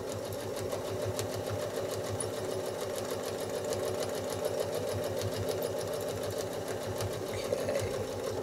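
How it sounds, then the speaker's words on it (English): Sewing machine stitching a quilt block, a steady fast mechanical chatter with an even rhythmic hum running throughout at close range, with no talk. "Now I'm going to travel stitch along the edge and finish with those puffy clouds."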